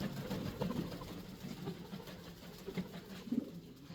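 A house pigeon at a pigeon farm coos softly several times in low, muffled bursts against a steady background hum, with no talking.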